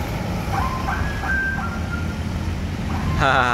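Ice cream vendor's melody passing a busy bus stop, thin high tonal notes rising and holding over steady traffic and engine rumble, then a louder warbling tone near the end as it draws close.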